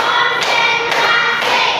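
Hands clapping in a steady rhythmic pattern during a classroom clap game, loud and close with evenly spaced beats and no talking over them.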